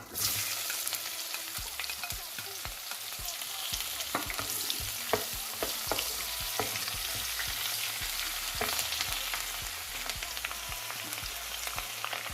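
Onions frying in a pan for a Ghanaian red-red bean dish, a continuous dense crackling sizzle with irregular spoon taps and scrapes, close and steady throughout, no talking.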